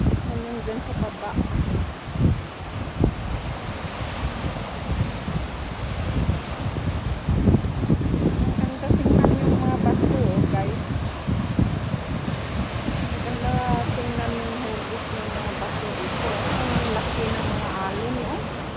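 Wind and surf at a beach in Bermuda on a windy, sunny winter day, with steady blustery wind noise and rolling waves throughout, and a person talking intermittently over it.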